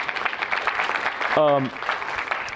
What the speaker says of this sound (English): So please, give Reid a round of applause.